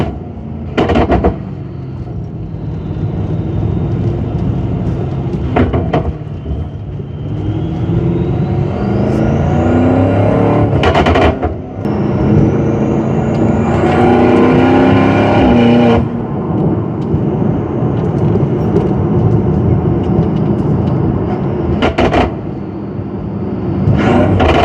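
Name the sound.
BMW M5 exhaust crackling while revving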